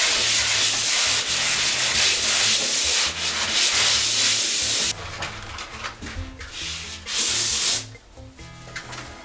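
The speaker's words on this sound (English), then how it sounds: "when you're sanding anything like this" A plaster or drywall ceiling patch is sanded by hand in steady, loud back-and-forth scraping strokes that pause and change pace partway through, with no voices.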